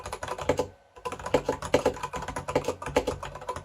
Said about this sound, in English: How an N Pro with Gator and Brown switches sounds.